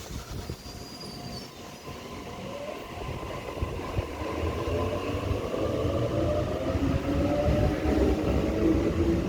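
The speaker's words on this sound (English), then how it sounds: "8:37 is now departing platform 2, Gold service." A Gold service train departs platform 2 at Denistone station, a rumbling rail roll with rising wheel squeal and clatter that grows louder and closer, heard alone without talk.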